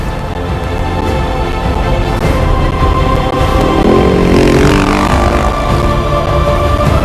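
A KTM 450 rally motorcycle on a Dakar Rally stage in 2011, its engine roaring loud and close with a steady drone that rises in pitch midway as it accelerates past.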